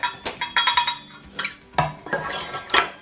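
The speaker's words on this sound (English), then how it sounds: "And let's mix that in really well." A utensil clinks and scrapes against a container in quick, uneven strokes as water is stirred into a sourdough starter, close and fairly loud.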